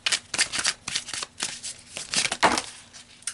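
Tarot cards being shuffled by hand, a quick series of close, crisp riffling and flicking bursts with brief gaps between them.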